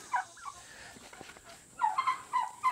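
Turkeys gobbling in a farmyard shared with chickens and goats, a burst of rattling gobbles near the start and a second run of loud, close gobbles toward the end, alone without talk.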